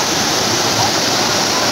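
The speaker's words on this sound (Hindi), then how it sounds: "ये देखें कितनी स्पीड में पानी गिर रहा है," Water pours fast like a waterfall at Lahooti Picnic Point in Karachi, making a loud, continuous broadband rush that fills the whole moment with no pauses.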